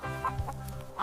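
Close chicken produces a brief run of low, continuous clucking and murmuring, ending with a sharper cluck; no talking.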